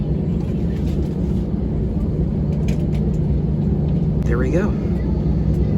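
An airliner's jet engines hum and rumble steadily as the plane begins taxiing on a flight to Mecca, a constant loud drone heard from inside the cabin, with someone speaking briefly near the end.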